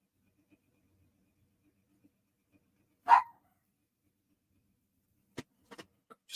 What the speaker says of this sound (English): My dog barks at imaginary things in the dark.